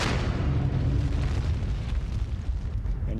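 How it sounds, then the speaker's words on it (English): A supernova explosion rendered as a deep, sustained roar: loud, low rumbling that swells and churns continuously for several seconds with no voices over it. "A stupendous explosion."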